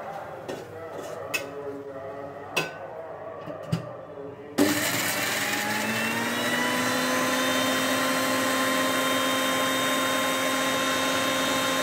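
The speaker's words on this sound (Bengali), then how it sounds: "এগুলোকে ব্লেন্ড করে নিব।" Electric blender grinding fried ingredients with dried chili, onion, garlic, salt and mustard oil, starting abruptly after a few clinks and knocks and then whirring loudly and continuously, its pitch settling as the mixture smooths.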